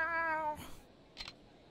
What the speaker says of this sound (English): That's a wildcat.